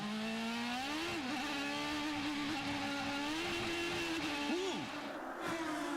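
An IndyCar race car from the 2009 St. Petersburg round pulls out of pit lane, its engine a loud, steady, high-pitched whine recorded on board that rises and dips through gear changes and throttle blips.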